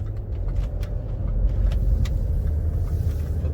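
A Range Rover L322 engine, freshly rebuilt, runs at a steady idle nearby, a continuous low rumble with no talking.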